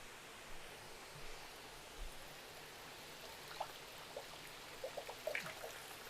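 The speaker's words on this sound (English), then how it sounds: "This water coming through this 2-inch line from our pumps that are down, pumping water out of the sump" Water pours steadily from a 2-inch line fed by sump pumps into a vat in a cichlid breeding setup, making a faint, even rush with a few small splashes and drips near the end.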